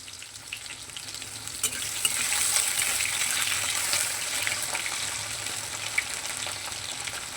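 Sliced potatoes fry with browned cumin seeds in oil, giving a loud, steady sizzle that holds for several seconds with occasional stirring clicks.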